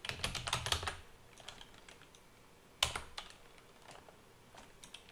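Typing on a computer keyboard, with a dense burst of quick key clicks at the start, then a sharp cluster near the three-second mark and scattered single taps after, close and fairly quiet with no voices.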